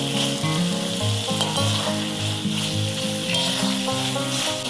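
Koi fish sizzle and fry in hot spiced oil, a loud continuous crackling hiss close by, with a steady tonal hum running underneath.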